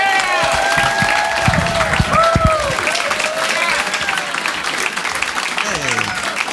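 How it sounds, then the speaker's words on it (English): A comedy club audience breaks into loud, sustained applause for a stand-up comedian, with scattered whoops and cheers rising over the clapping. "A big round of applause for Doug Mellard."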